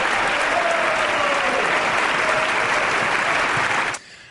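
Large audience applauding during a State of the Union address, a loud, sustained roar of clapping that cuts off abruptly near the end, leaving near silence.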